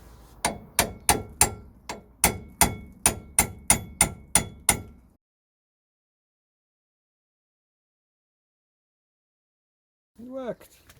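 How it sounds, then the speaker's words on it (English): Steel hammer tapping the top of a spanner during VW T3 front wheel bearing work, a run of about eleven sharp, evenly paced metallic strikes, close and loud, then silence and a brief voice at the end. "I'm just tapping the top of the spanner with a hammer."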